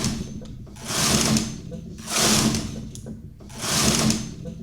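A double-bed knitting machine knitting rows: three long, rising-and-falling carriage passes sweep back and forth with a clattering mechanical whir, separated by short quiet pauses, close up and without speech.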